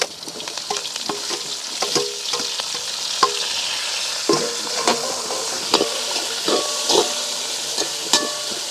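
Small shallots, green chilies and curry leaves stir-fried in a pan in an outdoor village kitchen: a steady close sizzle and hiss with repeated scraping stirs and clinks of a utensil, no voices.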